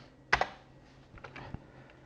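A computer keyboard gets a few quick keystrokes: a sharp pair of taps, then several lighter clicks spaced out over two seconds, close and moderately quiet, with no speech.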